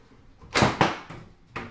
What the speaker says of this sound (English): Pull this little side door off.